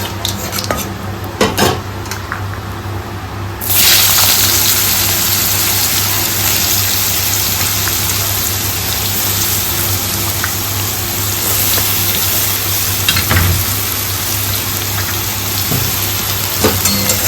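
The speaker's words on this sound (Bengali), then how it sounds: "রাঁধুনি ফোড়ন দিয়ে আলু বেগুন সব ভেজে নেব।" Potato and eggplant hit hot oil with radhuni seeds, and a loud sizzle bursts in after a few seconds and holds steady, mixed with the clatter of a utensil against the pan.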